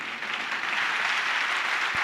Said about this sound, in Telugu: దేవునికి ఒకసారి గట్టిగా చప్పట్లు కొట్టండి.